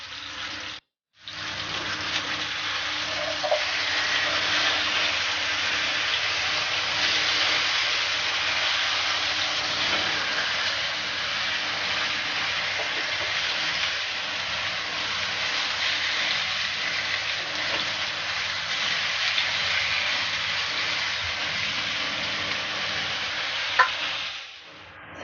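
Pork chops frying in a pan for Jamaican-style honey garlic pork chops, a loud, unbroken sizzle that holds steady for the whole stretch, close up, with a brief sharp click near the end and no talking.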